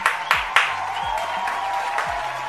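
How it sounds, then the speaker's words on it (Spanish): Clapping from a small group during a Spanish comedy sketch, with a few sharp individual claps standing out before the applause settles into a softer, steady patter. "Un aplauso para estos héroes."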